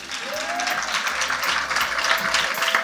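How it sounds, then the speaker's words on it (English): Audience applause for a bronze award winner at a Jamaican creative writing competition ceremony, a steady dense wash of clapping holding for about three seconds at fairly loud level, with a faint background tone. "Clap them!"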